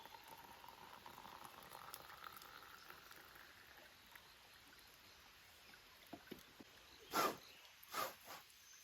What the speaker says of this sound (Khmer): ដាំទឹកពីលើទៀតផឹកកាហ្វេ